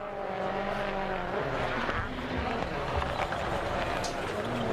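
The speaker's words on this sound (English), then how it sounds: "this still is a spectacular display of controlled driving on snow from both drivers" Rally cars at the 2007 Swedish Rally run through a tight, twisty snow stage, engines roaring steadily throughout with loud motor noise and tyre hiss, overlaid by continuous talk.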